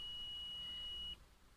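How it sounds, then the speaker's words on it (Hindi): A steady continuity-tester beep sounds while probing a mobile phone's circuit for a short, a single sustained tone lasting about a second before cutting off, leaving faint background hiss. "देखिए ये बीप कर रहा है यानी ये माइनस से जुड़ा हुआ है"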